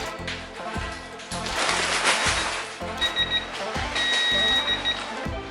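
A torque wrench tightening BMW E90 wheel studs gives a mechanical ratcheting clatter followed by a steady high electronic beep that sounds twice, the second one held longer, close by.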